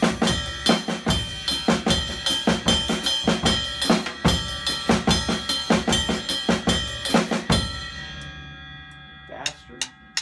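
Funky pataflafla flam-tap groove on a drum kit, hi-hats on the offbeats, fast steady loud strokes for about eight seconds, then the kit stops and a few faint taps and a brief voice follow.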